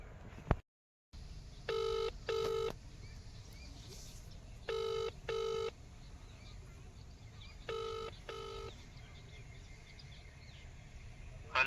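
A telephone plays short paired bursts of dialing or ringing tones in three evenly spaced groups. The sound is faint against a quiet outdoor background with soft insect and bird noise.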